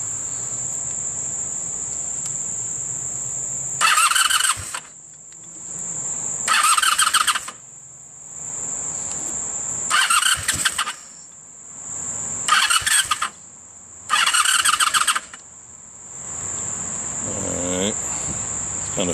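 A vehicle engine cranks five times in repeated bursts of a few seconds each and keeps trying to start without catching, heard over a constant high insect-like whine.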